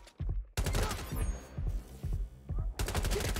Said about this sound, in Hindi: गोलियां क्यों चला रही है ये लोग मुझ पे?